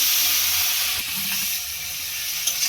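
Grated potato and carrot drop into hot tempering oil in a pan, a loud close sizzling hiss that starts strong and slowly settles, with a faint clink near the end.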